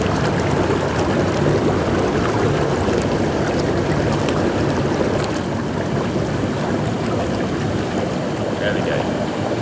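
Air jets of an Omnitub Duo Extra deep soaking whirlpool bath churn the water in a steady, dense, close bubbling rush, with faint talk underneath.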